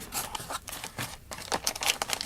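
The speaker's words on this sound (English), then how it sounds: "A pair of scissors." Scissors cutting open a plastic bag from a HackerBox 0046 kit, heard as close, quiet snips mixed with crinkling and tearing plastic in an uneven, busy patter.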